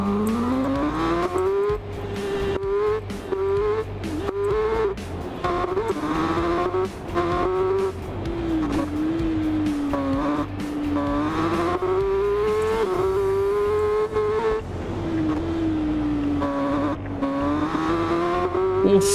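Revving ZX10R motorcycle engine whine from a racing game, rising and falling in pitch continuously with brief gear-shift dips, loud and steady throughout.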